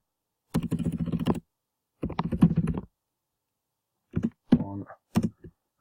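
Computer keyboard typing in short bursts, clusters of quick clicky keystrokes separated by pauses, close and fairly quiet with no talk.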